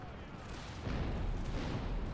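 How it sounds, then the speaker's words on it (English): Cannon volleys in a Total War game battle, with dense, rumbling booms and explosive bursts that build louder after the first second, amid continuous battlefield noise. "As much as I love to show the cannons, they just take too bloody long to fire."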